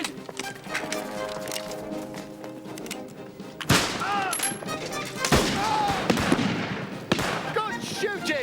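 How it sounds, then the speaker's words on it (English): Musket shots in a battle, early nineteenth-century setting: scattered loud reports and crackling volleys over shouting and battle noise, with a sharp nearby blast midway followed by more irregular shots. "Good shooting, Sharpe!"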